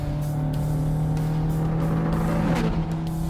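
A Ferrari California sports car driving on the road, its engine a steady, droning hum from inside the cabin that swells slightly as it pulls along.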